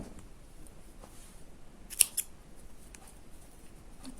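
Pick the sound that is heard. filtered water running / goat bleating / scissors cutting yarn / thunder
scissors cutting yarn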